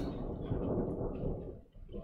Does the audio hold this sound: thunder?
yes